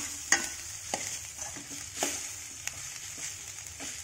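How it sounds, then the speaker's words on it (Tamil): Cooked rice is stirred with a gooseberry mixture in a pan, giving soft scraping strokes at an irregular pace over a faint, steady sizzle, close and moderately quiet. "பாருங்கள் இந்த மாதிரி கிளறிக்கலாம்"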